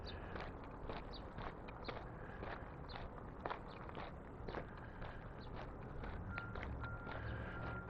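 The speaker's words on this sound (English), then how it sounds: "Sounds like I'm walking fast because you can hear my feet going crunch," Quick footsteps crunch on gravel in a steady walking rhythm, close to the mic over a low outdoor background hum.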